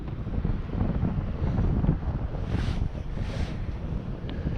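Steady cold winter wind buffets the microphone beside a mountaintop reservoir in Northern Virginia with a low rumbling roar, gusts swelling and fading, no voices heard.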